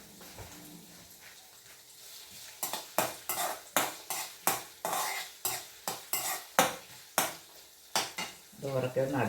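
Garlic, ginger and green chili frying in a pan, a spoon scraping and stirring in a steady run of sharp strokes over a soft sizzle, with brief talk at the start.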